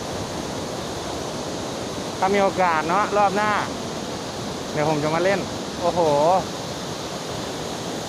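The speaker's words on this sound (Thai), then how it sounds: "นี่ทุกคนฟังเสียงน้ำตกนะครับ" Kuang Si waterfall near Luang Prabang, Laos, a steady broad roar of falling water that runs throughout while someone speaks over it now and then.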